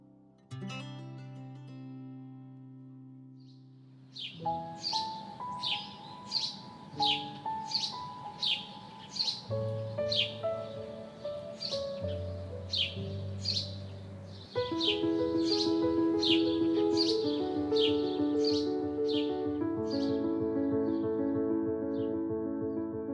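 Morning birdsong near a garden greenhouse at a backyard campsite: rapid, repeated high chirps and tweets in quick bursts, moderately close, layered over sustained soft musical tones.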